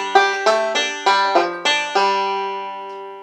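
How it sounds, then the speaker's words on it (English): A banjo blues lick picked alone up close: seven bright plucked notes in a steady, unhurried rhythm, each sharp attack ringing into the next, the last note left to sustain and fade. "Take your 2 and make it a 3, and you've got a blues lick"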